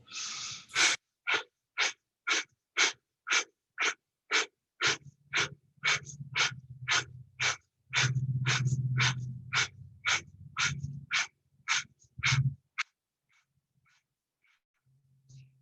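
Yoga breathing practice with a long run of quick, sharp pumping breaths at an even pace, close and distinct, with a low rumbling murmur beneath the middle stretch before the breathing stops and fades to near silence.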